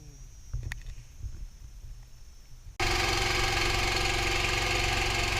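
A boat engine runs and vibrates, starting abruptly after a quiet stretch with faint knocks, then a loud, steady, close mechanical drone that continues to the end.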